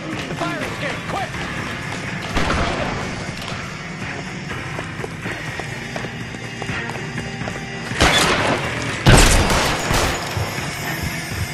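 A shootout rages in L.A. Noire, scattered gunshots and sharp cracks over game sounds and background music, with louder blasts toward the end.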